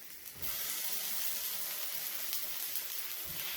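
Apple fritters frying on a griddle, a steady hissing sizzle that runs continuously and softly close by, with no talking.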